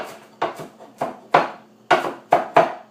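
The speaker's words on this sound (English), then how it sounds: "I am kind of chopping it up a little bit because I don't want people to think that they're just eating a bunch of kale" Kale chopped with a knife for a quinoa salad gives sharp, close, evenly spaced thuds on a cutting board, about seven strokes in a steady uneven rhythm with nothing else heard.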